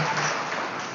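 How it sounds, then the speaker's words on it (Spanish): Church congregation at a Christian sermon clapping together, a dense steady wash of applause heard from a distance, moderately quiet and slightly fading, with no voices over it. "Un aplauso allí para despertarnos."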